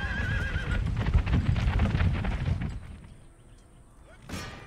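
Camel cavalry charge in the Empire Total War battle game. Dense, rumbling hoofbeats and animal cries fill the first few seconds, then fade into distant battle ambience, and a short sharp burst follows near the end.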